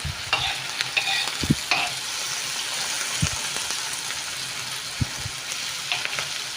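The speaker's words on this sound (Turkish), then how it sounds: "Şöyle soğanını, biberini, sarımsağını kavuruyorum." Onions, peppers and garlic sizzle and crackle steadily in a hot pan, with occasional scraping stirs and light knocks from a utensil.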